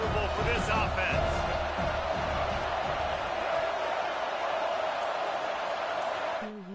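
In the College Football 26 video game, an Arkansas at Tennessee stadium crowd keeps up a steady loud roar and din throughout, with a commentator's voice running over it.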